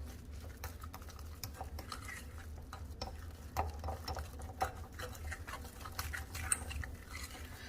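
Cornstarch is mixed into a bowl of batter, giving quiet, quick, repeated taps and soft scrapes of a utensil in an irregular rhythm over a low hum.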